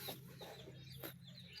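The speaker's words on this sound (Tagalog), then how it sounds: "Mga manok." A chicken clucks a few quick, soft times, faint and alone with low background hum.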